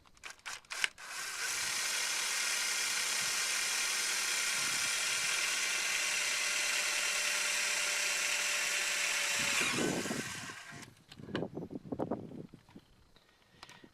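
Bosch 18-volt cordless drill running, a steady whirring spin held for several seconds after a few clicks, then winding down, followed by handling clatter nearby.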